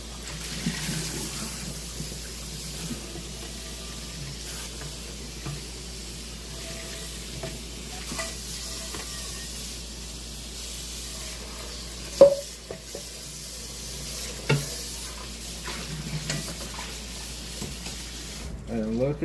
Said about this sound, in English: Now let's rinse this off.